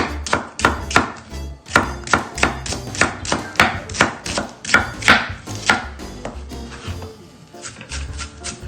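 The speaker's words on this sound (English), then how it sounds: "Now we're going to cut up our 1 onion, a whole onion. And we're going to chop that nice and fine" A knife chops a whole onion finely on a board for Southern jambalaya, with quick, steady, close thuds in an even rhythm that slow and stop toward the end.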